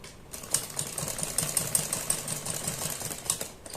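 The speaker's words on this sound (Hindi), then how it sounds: "इस कॉलर पर हम इस तरह से सिलाई लगाते चले जाएंगे, इसी सिलाई के ऊपर ऐसे रख के" Sewing machine running steadily while stitching along a shirt collar, a close, continuous fast mechanical whirr and rattle, with no voices.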